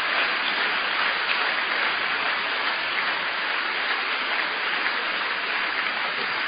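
Congregation at a church service clapping, a dense continuous wash of many hands, steady and loud throughout with no pauses.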